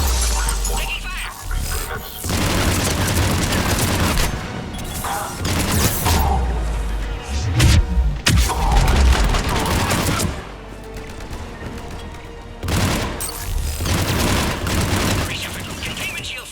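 Heavy gunfire in the Mass Effect 3 Cerberus lab: dense bursts of shots, booms and shattering impacts come in waves over about seventeen seconds, with short lulls between, loud and close.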